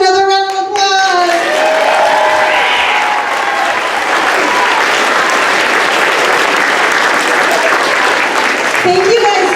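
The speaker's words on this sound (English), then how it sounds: "Let's give them another round of applause" A crowd applauding after a children's Wonka-themed show, steady loud clapping with some cheering that carries through nearly ten seconds, with a voice speaking briefly at the start.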